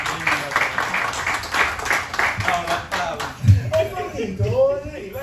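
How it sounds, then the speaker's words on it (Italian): Audience applause at a Lega Navale Italiana event in San Benedetto, a burst of clapping for the first few seconds that fades as a voice takes over. "Un applauso, grazie."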